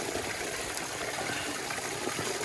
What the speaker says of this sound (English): It's coming straight from the stream up there.